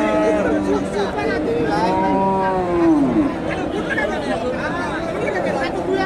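Dairy cows, Friesian heifers among them, low and moo in long drawn calls at a busy cattle market, heard over steady crowd chatter and people talking nearby.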